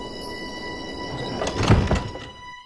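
A door swings open with a dull thunk and a short creaking scrape, close and moderately loud over a quiet room hum that fades out afterward.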